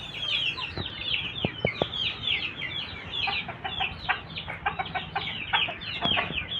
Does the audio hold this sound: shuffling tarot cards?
no